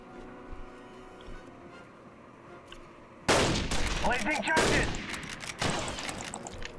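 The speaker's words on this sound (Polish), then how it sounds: "robię suppressing fire" Sustained automatic gunfire erupts in a WWII video game during a suppressing fire push, loud rapid bursts after a quieter stretch of distant shots, with voices talking underneath.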